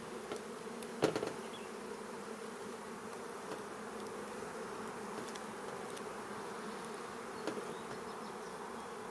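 Honey bees being moved from a transport nuc box into a hive, a steady faint buzzing swarm hum continuing throughout with a couple of brief knocks.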